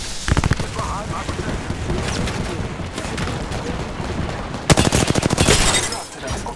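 Rapid automatic gunfire rattles in Apex Legends, a quick close burst at first, then steady battle noise and a second longer loud volley of shots.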